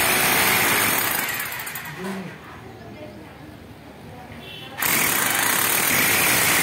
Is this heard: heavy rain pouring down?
no